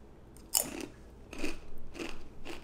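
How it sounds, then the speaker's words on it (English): Crunchy curls eaten with peanut butter and blueberries, heard as a few separate crisp bites and crunching chews at close range, with no talking. "I like having crunchy curls with peanut butter,"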